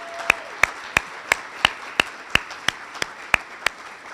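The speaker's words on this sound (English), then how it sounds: "Let's give him one more round of applause." An audience at an awards ceremony gives a round of applause, heard as evenly spaced sharp claps in a slow steady rhythm, about a dozen strokes, close and distinct over a faint background.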